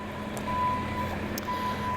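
Reversing beeps from a Bobcat loader at a plant nursery, a steady high-pitched tone repeating through two seconds over a continuous low engine rumble, moderately distant.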